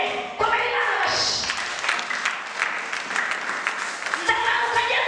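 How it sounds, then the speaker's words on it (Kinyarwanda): Church congregation applauding in praise of God during a sermon, loud sustained clapping that fills the room from start to finish, with faint singing or voices underneath. "Komera Imana amashyi."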